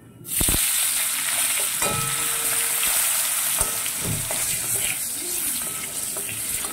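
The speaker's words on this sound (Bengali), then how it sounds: "5 ফোড়ন আর শুকনো লঙ্কাটা আমার ভাজা হয়ে গেছে, দিয়ে দিচ্ছি আলু।" Potatoes drop into hot oil already seasoned with panch phoron and a dry red chili, bursting into a loud, steady sizzle close by, with a few utensil knocks and scrapes and no talking.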